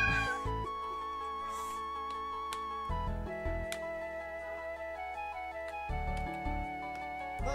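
Music from the Grey Garden video game with stepped, tonal notes, where a cat is meowing; the meows are not clearly separable from the melody, and no one talks.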